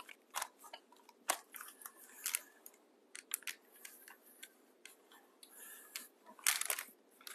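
Scissors snip through quilting fabric for a black-and-white quilt block, a run of close, crisp irregular cuts and crunches with no talking.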